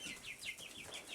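Backyard chickens make a quick run of soft, repeated clucks and chirps, faint and close together, with no talk over them.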